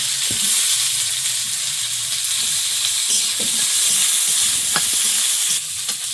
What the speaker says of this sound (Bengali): শুকনো লঙ্কা তেলে একটু গোটা জিরে পেঁয়াজ কুচি